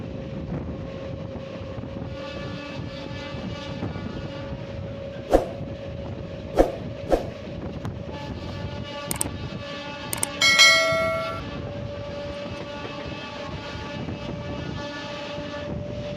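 A passenger train runs near the India-Pakistan border on the Mumbai–Ferozepur Cantt route, its steady rumble and wheel clatter continuing throughout, with a few sharp clanks and a brief horn-like tonal burst near the end.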